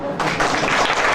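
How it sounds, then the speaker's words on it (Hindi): Brief burst of audience applause at a Swar Yoga lecture, many hands clapping together in a dense, steady wash that starts abruptly and holds loud for about a second. "ताली हो जाओ"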